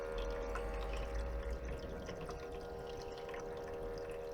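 A Tramontina ice maker fills its small tray with water, producing a steady, close pouring and trickling sound over a constant low pump hum that continues without a break.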